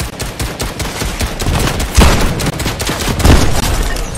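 Rapid gunfire from the game Fortnite, with dense bursts of shots and a couple of heavier booming hits, loud and continuous through the whole stretch.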